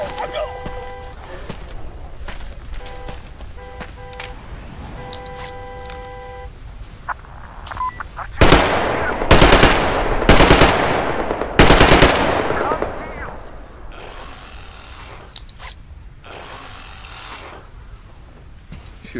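Automatic gunfire from the video game Metro Exodus bursts out in several loud, sharp volleys mid-clip, with quieter in-game ambience and electronic tones around them.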